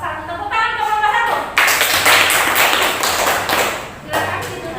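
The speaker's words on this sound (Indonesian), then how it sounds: "Tepuk tangan ke kelompok 1." A class applauds a student group after a voice speaks briefly, the clapping swelling into a dense, loud patter of many hands that fades and picks up again.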